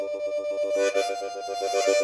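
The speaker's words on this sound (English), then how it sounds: "Or tongue flutters." Harmonica played with a tongue flutter, a rapid, even pulsing tremolo on a held chord with about a dozen quick beats over two seconds, close and moderately loud, with no talking.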